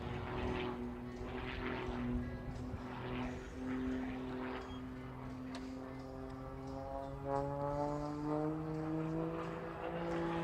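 A propeller airplane flying aerobatics at a Florida air show, snap rolls and an outside rolling 360, its engine droning steadily at a distance with pitch rising and falling as it maneuvers.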